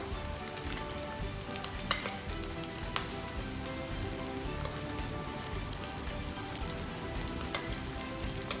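Cooked rice and egg fry in a pan with a dense, continuous sizzle like rain on a hot surface, broken by a few sharp scraping clicks.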